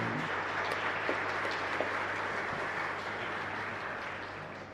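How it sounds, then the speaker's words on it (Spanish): A congregation at a Catholic Mass in a chapel in Fernando de la Mora, Paraguay, gives a sustained round of dense applause that holds steady for several seconds and then gradually eases off. "merecen un fuerte aplauso tanto el Padre como el canal"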